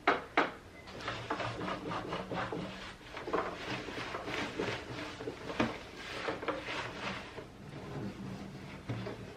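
Cloth rubbing finish restorer into the surface of wooden guest-room furniture, a steady close-up scrubbing rasp in repeated back-and-forth strokes with a few sharper knocks at the start, no talk.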